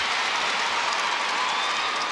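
Steady applause and cheering from a netball crowd at a Suncorp Super Netball match between the Swifts and Lightning, a dense, even wash of clapping heard from a distance, with no break.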